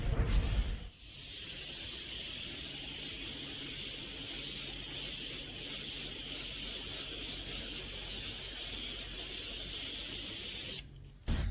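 A steady water spray rinses a car in winter, one continuous even hiss and wash lasting several seconds at close range, starting and stopping abruptly.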